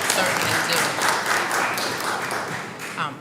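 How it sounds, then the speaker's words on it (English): Applause rises at a public meeting for the governor and legislators, a full crowd clapping steadily with a murmur of voices mixed in. "they deserve a round of applause"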